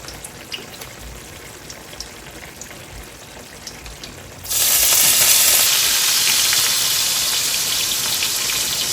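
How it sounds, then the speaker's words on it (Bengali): Chopped onion drops into hot oil already spiced with dried chili, cardamom, cinnamon, cloves and bay leaf. A sudden loud, dense sizzle bursts in halfway through and keeps crackling steadily, following a quieter, fainter frying hiss. "এখন দিয়ে দিব একটু পেঁয়াজ কুচি"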